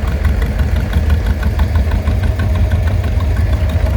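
A John Deere 420 tractor in a parade rumbles past with a loud, steady low engine chug and knocking idle, close to the microphone throughout.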